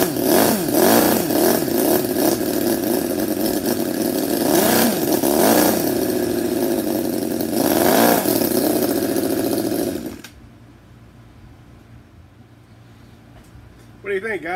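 A Cison FL4-175 nitro model engine screams and revs loudly in rising and falling surges for about ten seconds, then cuts off, leaving quiet.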